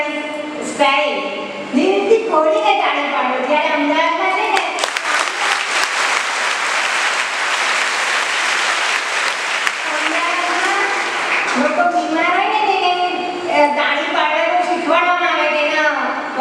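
An audience at a school prize distribution and teachers' farewell ceremony claps in unison, a loud, sustained burst of rhythmic applause in the middle. Someone speaks before and after it.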